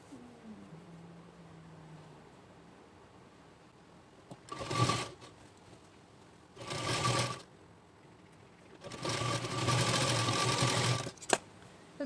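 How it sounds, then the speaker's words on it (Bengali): A sewing machine stitches the folded fabric edge of a bolster pillow cover in three close, clear runs, the last and longest lasting about two seconds, with quiet pauses between them and no talking. "এবারে আমি এই মুখটিকে ফোল্ড করে চারিদিকে সেলাই করে নেব"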